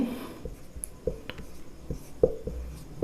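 Chalk or marker writing on a board during a maths lesson, a series of short irregular taps and scratchy strokes, close and fairly quiet, with no talk.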